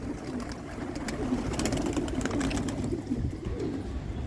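Racing pigeons coo in close, repeated throaty rolling calls over a steady low murmur of other birds, fairly loud and unbroken by speech.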